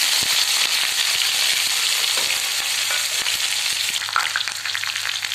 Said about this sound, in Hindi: ਤੇਲ ਗਰਮ ਹੋ ਚੁੱਕਿਆ ਜੀ ਆਪਾਂ ਇਸ ਵਿੱਚ ਪਾ ਦੇਵਾਂਗੇ 1 ਚਮਚ ਜੀਰਾ